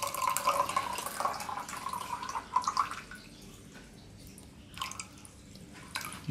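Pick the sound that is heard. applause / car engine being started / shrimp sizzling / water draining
water draining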